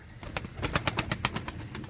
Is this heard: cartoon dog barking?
no